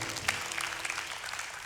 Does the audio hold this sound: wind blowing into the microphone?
no